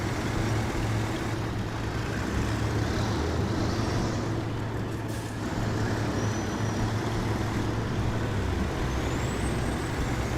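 Two Kenworth trucks in the SnowRunner driving game, their engines rumbling together as a steady, loud, continuous drone with a constant low hum and no talking.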